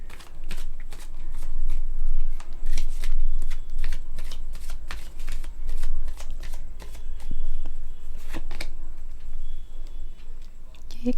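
Tarot cards are shuffled by hand in a close, soft stream of rapid riffling flicks and taps, with a low hum underneath.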